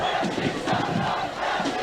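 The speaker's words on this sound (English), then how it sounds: "the boys very excited as we see the war cries there. Northwood boys cheering their boys on" Schoolboy rugby supporters chant a rhythmic war cry, pulsing voices rising and falling in unison, while a dense crowd cheers steadily throughout at a school 1st XV match.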